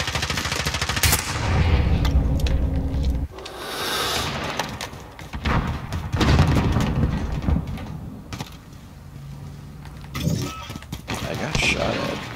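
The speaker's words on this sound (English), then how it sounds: "I got shot at." Bursts of gunfire in a Call of Duty Modern Warfare Search and Destroy match, loud rattling shots recurring throughout, mixed under players talking over voice chat.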